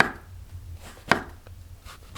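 Knife slicing shiitake mushrooms thinly on a cutting board in a home kitchen, a few sharp, separate chops spaced about a second apart with quiet pauses between.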